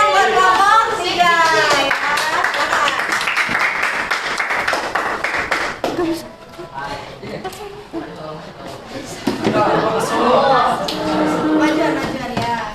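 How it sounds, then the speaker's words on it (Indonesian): A classroom group gives a round of clapping for a student team during a teaching practice session, the claps mixed with voices talking over and around them throughout. "Ayo kasih tepuk tangan buat kelompok 3"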